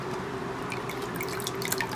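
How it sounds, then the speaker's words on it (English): Water gently poured through the exposed roots of a potted Vandopsis orchid, a steady trickling and dripping stream running continuously at close range. "I kind of gently pour the water through"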